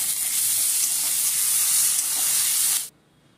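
Chopped onion and a teaspoon of ginger paste fry for prawn pulao, making a loud, steady, hissing sizzle up close that cuts off abruptly near the end.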